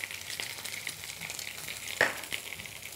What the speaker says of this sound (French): Un filet d'huile d'olive et on dispose les pavés de cendre côté peau dans la poêle.